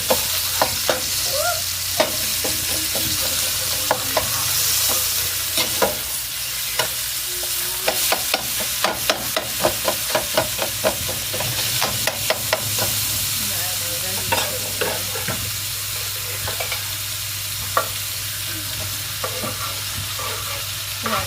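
Meat sizzles loudly in a pan, a continuous hiss punctuated by sharp spatters and utensil clicks, with no talking over it.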